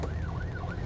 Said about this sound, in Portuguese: Uma ambulância aí passando.